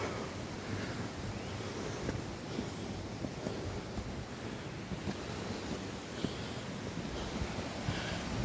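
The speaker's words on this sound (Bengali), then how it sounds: "এই দেখুন ঝর্ণার পানি পড়তেছে। কি শব্দ পানির!" A mountain waterfall in South Korea pours down in a steady, dense roar of falling water, continuous and fairly close with no voices over it.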